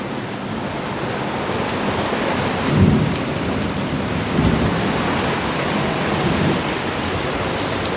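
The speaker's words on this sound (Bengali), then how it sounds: "মানে বৃষ্টির ছাট আসছে" Heavy rain pours steadily and close, with a few low rumbles of thunder rolling in partway through; no one speaks.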